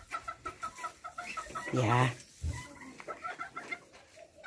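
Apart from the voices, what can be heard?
hens clucking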